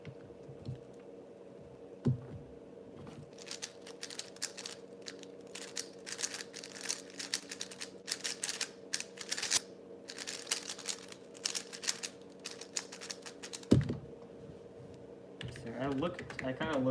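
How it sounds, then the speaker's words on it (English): Rapid typing on a computer keyboard, fast irregular key clicks in bursts with short pauses, close and fairly quiet over a faint background hum. "I could have continued typing there actually."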